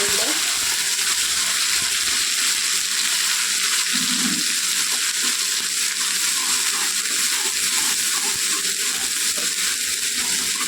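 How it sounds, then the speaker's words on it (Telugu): Masala spices fry in oil in a pan for a fish fry, giving a steady, loud, close hiss and crackle that continues without a break. "చూడండి మసాలా కొద్దిగా వేగిందండి"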